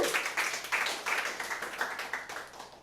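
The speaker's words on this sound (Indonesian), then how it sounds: "Tepuk tangan buat Allah kita." Scattered hand clapping from a church congregation during a Sunday worship service, a moderate, uneven patter of claps sounding from a mid-distance for a few seconds.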